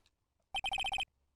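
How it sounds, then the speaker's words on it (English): A phone ringtone from the video game Phoenix Wright: Ace Attorney, a quick burst of seven identical bright electronic beeps in rapid rhythm, clear and alone after near silence. "what is with this stupid sounding ringtone?"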